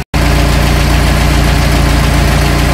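The engine of a 1968 Commer 2500 van, warmed up after a drive, idles close by with a loud, steady rhythmic throb and a slight knocking pulse, with no voices.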